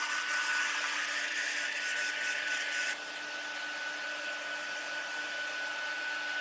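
A hair dryer blows steadily and loudly to dry a decoupage craft project, its hiss dropping slightly in pitch and volume midway as the setting changes, with no talking.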